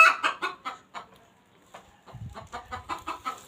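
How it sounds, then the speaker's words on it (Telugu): A chicken clucks in a rapid series of close, loud calls, pausing briefly before a second run of clucks, with faint low background noise. "కోడి మొత్తుకుంటుందిగా"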